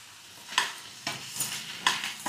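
Tomato pieces with moringa leaves frying in a pan, a soft steady sizzle punctuated by about five clinking stirs of a spoon against the pan.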